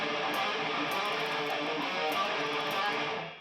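Distorted electric guitar playing a rhythm riff in D Phrygian dominant from a thrash song, a dense continuous wall of fuzzy tone with quick picked notes, heard alone at moderate level.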